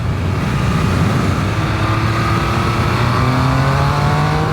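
A Triumph Speed Triple 1200 RS motorcycle out on the road, its engine droning loud and steady with tones rising as it gathers speed, heavy wind rush throughout and no talking.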